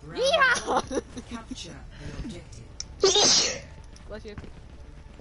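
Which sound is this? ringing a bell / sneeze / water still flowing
sneeze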